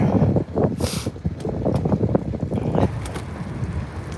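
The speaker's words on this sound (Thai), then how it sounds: "ออกมาข้างนอกก็ลม" Strong outdoor wind buffets a microphone in gusty, roaring bursts, loud and close with rumbling low noise throughout, while out cycling to work.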